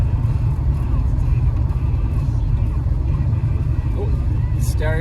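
A 1972 El Camino with a 454 big-block V8 cruises in top gear, giving a steady, heavy low-pitched rumble and cabin drone that holds even throughout, with a brief higher sound near the end.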